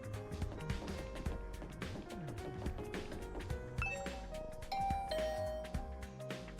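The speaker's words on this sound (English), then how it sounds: "I rang the doorbell." A doorbell chime rings out in the video game The Hundred Line: Last Defense Academy over a busy backdrop of game music and layered effects, with bright tones standing out near the end.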